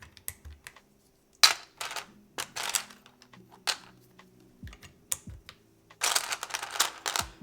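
Keys on a keyboard with HMX switches clack in uneven bursts of typing, crisp and close, with quiet gaps between strokes and a faster flurry near the end.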